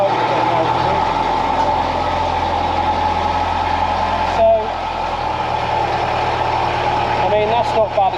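Armoured vehicle engine, from a set including an AMX-13 tank and ERC 90 and AML 90 armoured cars, idling steadily just after start-up with a deep low rumble, close and continuous, with faint activity near the end.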